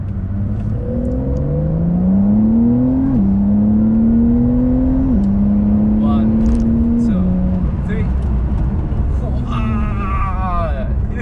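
A Porsche 911 Carrera 4S (992) sports car engine revs up through several gear changes, the pitch climbing then dropping at each shift, loud and continuous from inside the cabin.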